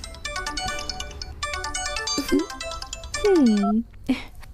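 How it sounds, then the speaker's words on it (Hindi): A telephone ringtone plays a bright, repeating electronic melody close by, cut with brief interruptions as people talk over it. "फोन।"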